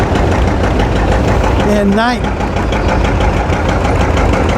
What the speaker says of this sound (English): 1959 and 60, that was the biggest John Deere tractor, 75 horsepower